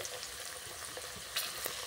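Onion, garlic, ginger and green peas sizzling steadily in hot oil in a pan, a continuous close frying hiss with a couple of brief louder crackles.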